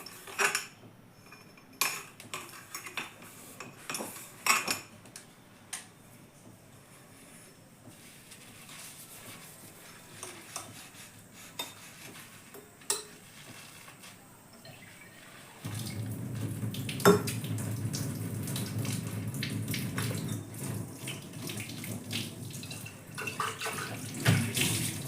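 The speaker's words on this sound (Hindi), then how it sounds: "हम बेबी की बॉटल धुल लेते हैं अच्छे से" A baby bottle is washed under a running tap, with clinks of plastic and dishware and splashing water. The water flow grows louder and steadier partway through, and no one speaks.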